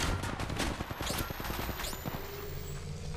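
Rapid automatic gunfire in Apex Legends Mobile rattles in a quick, close burst that tapers off into a low, fading rumble.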